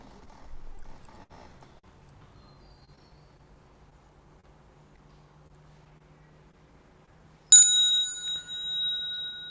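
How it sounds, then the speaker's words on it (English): A single bright temple bell struck once at a Buddhist sutra lecture, sharp metallic onset with a clear ringing tone that sustains and decays after a stretch of near silence with faint murmurs. "Bell sound"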